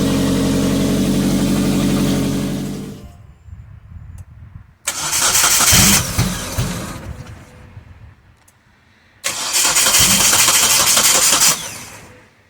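A car engine cranks with slow, labored turns, pauses, then cranks again in two long, loud bursts, sounding sluggish as if the battery is nearly dead.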